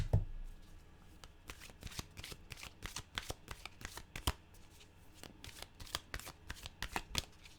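Animal oracle cards are shuffled by hand at close range, giving a steady run of crisp riffling snaps and flutters with no talking.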